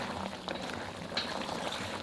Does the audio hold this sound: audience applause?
no